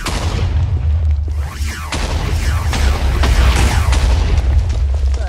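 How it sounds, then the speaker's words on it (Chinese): A blast from an IC2 mod electric tool in the video game Minecraft, heard as loud continuous rumbling booms with crackling debris that roll on without pause and stay heavy in the low end. "所以就是像这样乱七八糟的炸"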